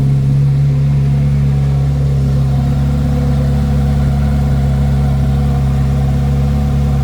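A modified C8 Corvette Z06 idles at about 1,000 RPM, caught roughly 18 inches from the exhaust: a loud, steady, deep burbling hum with no change in pitch and no voices over it.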